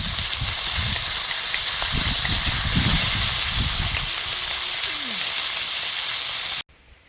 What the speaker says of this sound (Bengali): কই মাছগুলো ভাজছি।